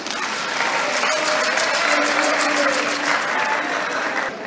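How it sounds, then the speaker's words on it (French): An audience claps steadily for President Mamadi Doumbouya at a televised Guinean cultural ceremony, the dense, even applause holding loud and continuous throughout, with a faint voice briefly audible underneath. "que je vous prie d'acclamer"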